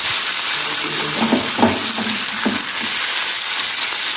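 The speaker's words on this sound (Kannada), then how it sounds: "ಈಗ ಮೀನು ಫ್ರೈ ರೆಡಿಯಾಗಿದೆ." Fish frying in a pan over a medium flame, a constant close sizzle with a few soft knocks and shifts partway through.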